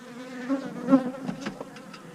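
Honeybees buzz steadily at close range during beekeeping, reportedly an Italian colony, a continuous droning hum with slight swells and no voices over it.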